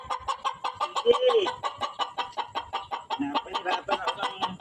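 A noisy rooster clucks in a rapid, steady series of close, loud calls, with a brief crow-like rise early on, while a person speaks a word.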